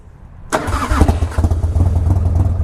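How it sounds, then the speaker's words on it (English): Harley Daytona Glide motorcycle cold-starting: near silence, then a sudden loud crank and catch, settling into a deep, lumpy, pulsing idle heard up close. "Alright, so we got a cold start. Turn the key. Cold start. Crack throttle twice."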